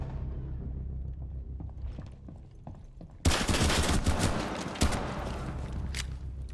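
Rapid pistol gunfire in a video game, a burst of loud sharp shots starting partway through with a second cluster after, preceded by faint scattered clicks and game ambience.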